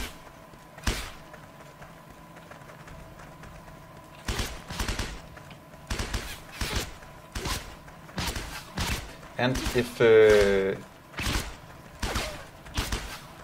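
Video game gunfire in an audio occlusion test, with sharp shot bursts repeating at intervals and a brief rapid volley near the middle, while someone talks over the firing.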